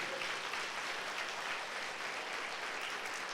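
A church congregation at a Sunday service applauding, dense continuous clapping that fills the room at an even level for a few seconds with no voices above it.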